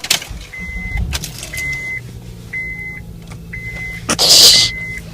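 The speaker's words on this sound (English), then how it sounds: "So, we're going to turn on the car. Wait for it to warm up." A car engine starts and settles into a low idle to warm up, with a dashboard chime beeping steadily about once a second over the hum and a brief louder burst of noise near the end.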